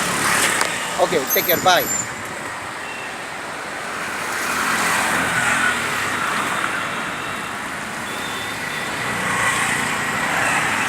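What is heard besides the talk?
new automatic car starting and driving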